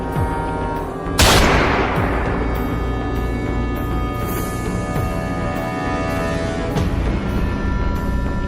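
A single loud gunshot cracks out sharply, followed by a long ringing decay over a dense, droning background score.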